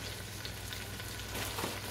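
Food sautéing in a pan gives a faint, even sizzle with a steady low hum underneath and a slight swell toward the end, with no voices.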